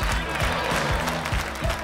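Audience clapping at a stage comedy show, a dense, steady burst of applause from a crowd in a hall, with voices mixed in.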